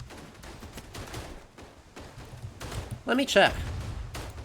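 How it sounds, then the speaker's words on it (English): A mortar shell slams in during a World War I shooter match in Verdun, one sharp loud impact near the end amid scattered distant gunfire, with a player talking over the battle. "That is just fully a mortar strike."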